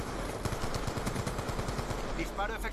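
Rapid automatic gunfire in the shooter game Call of Duty Black Ops 2 on the Frost map, a continuous clattering burst of shots at moderate loudness, with brief electronic game sounds near the end.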